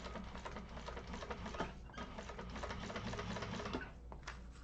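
A sewing machine top stitches vinyl on a satchel, its needle chattering in a fast, steady mechanical rhythm with brief slowdowns, close and continuous.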